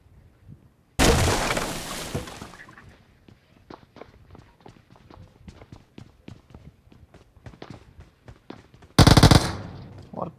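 Gunfire in a shooting video game: two long, loud bursts of automatic fire, one near the start and one near the end. Between them run quick clicks and footstep-like taps.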